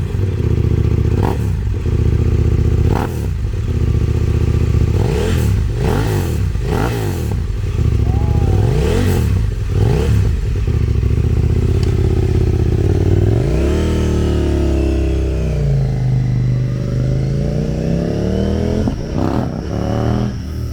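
A 2022 KTM Duke 890R fitted with an Akrapovic exhaust, revving loudly and close by in repeated sharp blips, then settling into a rising and falling run near the end.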